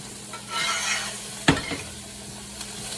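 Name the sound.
garlic butter sizzling on ribeye steak in hot pan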